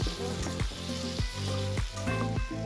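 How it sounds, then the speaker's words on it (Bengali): Ginger-garlic paste and tomato sautéing with chopped capsicum and carrot in a hot pan, making a close, lively sizzle broken by rhythmic scraping stirs roughly every half second. "তাতে আদা রসুন পেস্ট আর টমেটোটাকেও অ্যাড অন করে আর একটু সাঁতলে নেব।"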